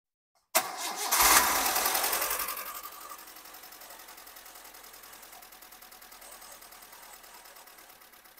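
A Suzuki APV engine with a Suzuki Futura ignition coil starts with a loud burst, then settles into a steady, slightly uneven idle that runs on alone, close up, with a faint rhythmic stumble.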